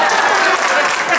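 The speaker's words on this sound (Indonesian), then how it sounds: "Coba tepuk tangan dulu dong." An audience at a church sermon breaks into dense, loud applause, a short burst of many hands clapping together close by.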